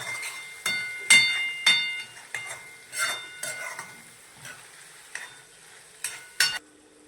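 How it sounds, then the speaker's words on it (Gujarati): Dried cowpeas are stirred in a hot oil tempering on a low flame, giving a soft steady sizzle broken by repeated scraping strokes of a spoon against the pan. "જો આપણે ધીમા ગેસે કરી દેવાનો વઘાર બધો."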